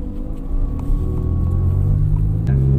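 A Honda Civic engine idles and rumbles through a chambered muffler exhaust, a steady deep, loud drone close by with a slight rise in pitch near the end.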